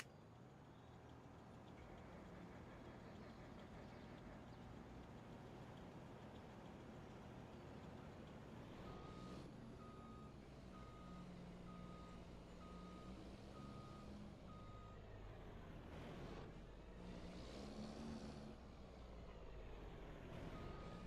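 A heavy truck idles and rumbles close by in a farming simulator game, a steady low engine drone with repeated reversing beeps and a brief air-brake hiss, no talking.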